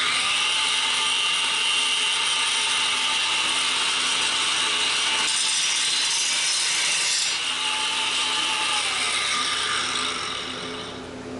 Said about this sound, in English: I'm going to do a little grinding.